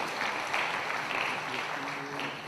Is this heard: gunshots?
no